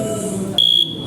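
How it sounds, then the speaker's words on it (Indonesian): A single steady high-pitched electronic beep from an Arduino Uno buzzer holds for about a quarter second, then cuts off, standing out over a quiet background hum. "Jika buzzer berbunyi seperti itu, tandanya jalan tidak berlubang."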